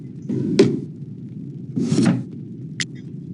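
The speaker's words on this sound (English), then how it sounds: "Open the bottom drawer, find a spare bed sheet." Drawers open in the video game Quest for Glory 5, with two wooden sliding scrapes and a sharp knock between them, followed by a final click, all close and fairly loud over a low background hum.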